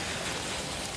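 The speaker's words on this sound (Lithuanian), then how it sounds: "Stipriau ir stipriau lyja." Heavy rain falling outdoors during a storm in North Macedonia, a dense steady roar of drops with no break and no voices.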